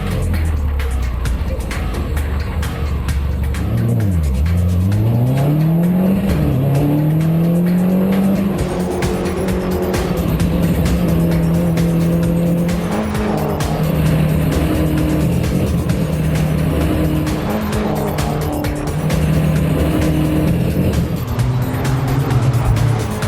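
Mini Coupe race cars lapping a track, engines droning loudly and continuously with rising and falling pitch as cars pass, occasional tire squeal, and no talk.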